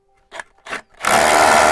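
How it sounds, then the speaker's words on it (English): A power drill gives a quick pulse to mark concrete for a fence post, preceded by two short knocks, then a loud, sustained grinding whir that cuts in abruptly and holds to the end. "All we're going to do is get the drill in and just give it a quick pulse."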